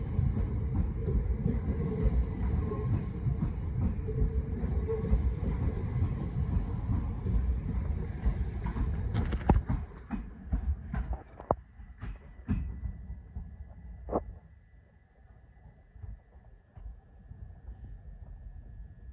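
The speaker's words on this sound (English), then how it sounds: "Now departing is 375-827, working the 1146 Southeastern service to London Charing" A Southeastern class 375 electric train pulls out of Hastings station, its rumbling wheels and motor loud and close at first, then fading away over several seconds, leaving faint distant rattles and a thin lingering tone.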